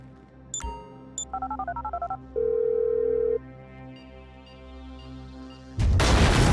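Inside GTA 5, a phone beeps through a rapid string of electronic dialing tones and then a steady ringing tone over a low in-game rumble, ending in a loud burst of noise.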